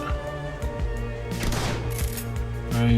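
Gunshots in the tactical role-playing game Shadowrun Dragonfall, a few quick shots over a droning musical soundtrack, with a denser crackling burst midway through the short stretch.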